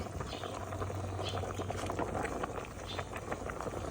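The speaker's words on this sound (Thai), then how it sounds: "นี่ครับน้ำจะเดือดไฟแรง" Water boiling hard over a charcoal stove with bamboo shoots and lime leaves in the pot, giving a steady close bubbling and rolling hiss throughout, with a low hum underneath.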